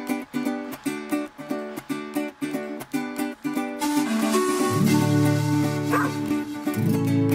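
A dog barking repeatedly in a rhythmic pattern, mixed into a recorded Chilean folk-rock song with charango, then fading under loud music.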